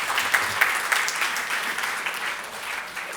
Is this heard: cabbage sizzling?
no